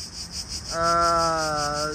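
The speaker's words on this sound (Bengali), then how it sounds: "এই যে দেখেন এইদিকে কিন্তু ঝিঝি পোকা ডাকতেছে।" Crickets chirp in a tree in Athens, Greece, a steady high pulsing buzz running throughout, joined midway by a brief droning tonal sound that fades near the end.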